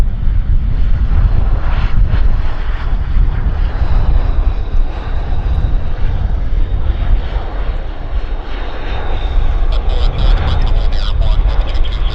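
Airliner jet engines run at an airport gate at Vancouver Airport, a loud, steady roar with wind buffeting the microphone, under occasional talk.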